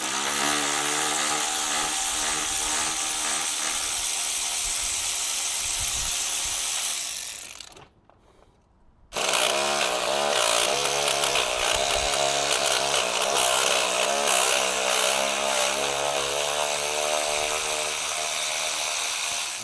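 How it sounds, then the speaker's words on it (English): A power tool or ratchet whirs in long, loud, continuous bursts while engine bolts come out of a Mini Cooper S, with a brief silent gap before the buzzing resumes. "we're just removing all of these, get all these bolts out of the way"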